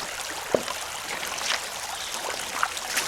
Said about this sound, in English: Need my pan to give me some water. Rinse the stuff off.